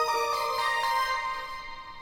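Layered synthwave bell synth patches from Halion Sonic SE ring out as a bright chime-like chord with shimmering overtones, sustaining and slowly fading over two seconds with no talking.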